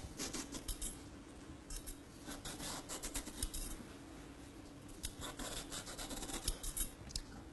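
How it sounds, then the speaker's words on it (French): A vegetable peeler scrapes the skin off a bell pepper in a kitchen, making steady, quiet rasping strokes that repeat close by with no talking. "Nous prenons un épluche légumes."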